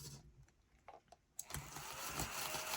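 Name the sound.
small vacuum cleaner running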